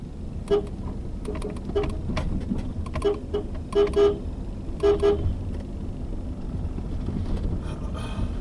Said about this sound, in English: This is why I am constantly using the horn, the klaxon of the car, to notify them about my incoming